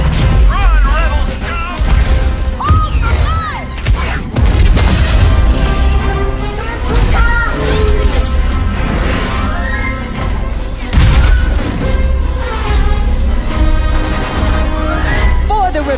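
A predator attack on a walker in a Star Wars video game battle brings a constant barrage of loud booms, crashes and blasts, layered with shouting voices and busy game sound.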